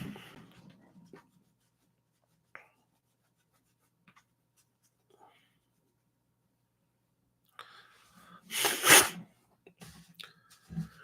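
A single loud, forceful nose blow bursts out near the end, preceded by a stretch of near silence and faint scattered rustles.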